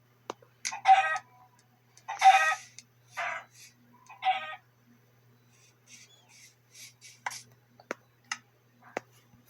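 Several short bursts of video game chicken clucking and crowing, separated by quiet gaps, followed by a few sharp clicks and ticks.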